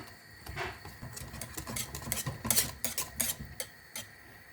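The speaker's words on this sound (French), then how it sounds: "je verse tout le chocolat et je continue de mélanger" A spoon or spatula clinks and scrapes steadily around a bowl of melted chocolate mixture for a chocolate birthday cake, close and fairly quiet, in repeated rhythmic strokes with no talk.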